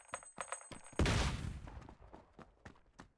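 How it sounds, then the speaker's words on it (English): A grenade blows up in Fallout 4: a sharp, heavy blast hits about a second in and rumbles away over the next second, with light clicks and thumps of movement before and after it. "We throw a grenade in there"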